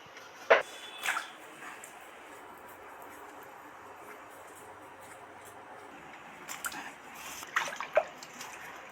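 Thick-cut potatoes are rubbed and rinsed by hand in a bowl of water: a few soft splashes and swishes close by, one early, another soon after, then a cluster near the end, with quiet stretches in between.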